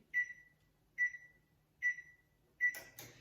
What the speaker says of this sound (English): So if you could set your oven to 350.